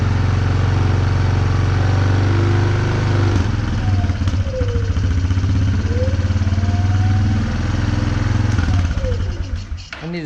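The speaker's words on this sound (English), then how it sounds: "Seems like the idle's a little high." A Yamaha Wolverine 350 ATV engine idles high and steady, a loud close-up drone with a few rising whine sweeps over it, running with the choke partly on.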